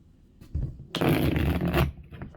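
A holographic double-sided tarot deck being shuffled: a loud, close, continuous riffling flutter lasting about a second, preceded by softer handling of the cards.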